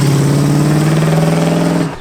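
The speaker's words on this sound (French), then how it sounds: "On va aller voir ce que dit cette Camaro au démarrage" A Chevrolet Camaro dragster engine roars at close range in a loud, steady, deep drone with a throbbing pulse, then cuts off abruptly near the end.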